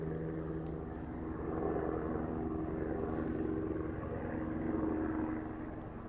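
A helicopter flying over a remote hillside trail, a steady low rotor drone that swells and fades slightly, fairly distant and faint, with no talk.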